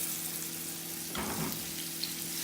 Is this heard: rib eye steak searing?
yes